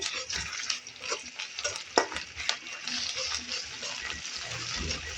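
Lightly browned onion is fried with ginger and garlic paste in a pan, giving a close, steady sizzle with frequent stirring scrapes and clinks throughout.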